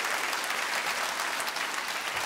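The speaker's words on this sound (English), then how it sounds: "Don't applaud that." Applause from a comedy club audience at a Winnipeg comedy festival, a dense steady clatter of many hands filling the room without pause.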